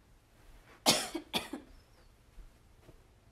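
A single person coughs twice in quick succession, sharp close bursts with a short throat rasp after, during a live daisy painting session, then quiet room tone.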